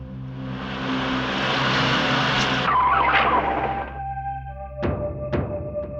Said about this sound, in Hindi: गाड़ी क्यों रोक दी तुमने?